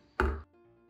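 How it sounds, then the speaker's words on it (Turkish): A single dull knock as a cake pan filled with batter is tapped on the counter to release air bubbles, brief and close, followed by quiet. "Kalıbı birkaç kere sallıyorum. Hatta birkaç kere şöyle havası çıksın içinden."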